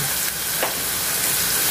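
Butter sizzles in a pan while broccoli cream soup is being cooked, giving a steady, close crackle and hiss that runs unbroken throughout, with no voices.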